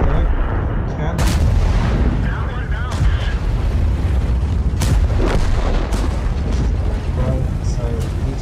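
Tank cannon shots in World of Tanks, heavy booming blasts recurring at intervals over a constant rumble of engine and battle noise, with sharp transients standing out loud and close throughout.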